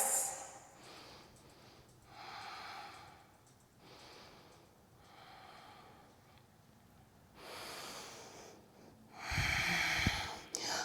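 Slow, deep breaths during yoga in a full splits pose, Hanumanasana. Several long airy inhales and exhales rise and fall at close range, with a louder rushing breath near the end.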